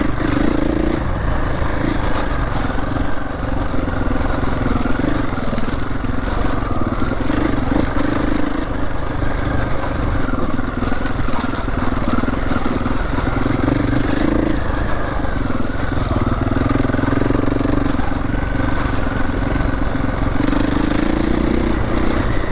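Triumph 450 enduro motorcycle ridden around Barcelona, its engine droning steadily and loudly throughout with rising and falling revs through turns, plus rattling clatter, no talking.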